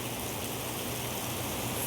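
Steady, dense heavy rain hissing continuously with no pauses or voices, during a thunderstorm.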